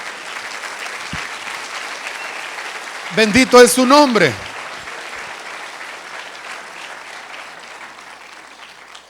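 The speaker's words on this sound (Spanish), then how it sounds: "¿Alguien tiene un aplauso para el Señor," A church congregation applauds the Lord at a sermon, steady clapping filling the room throughout while a voice speaks over it briefly near the middle.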